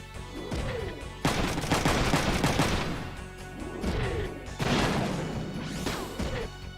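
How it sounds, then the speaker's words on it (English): AK-51 machine gun firing in the video game Front Mission 3, loud sustained bursts of rapid gunfire in two long volleys with short pauses and whooshing effects between them. "he's using the AK-51 machine gun, which is the weakest machine gun in the game."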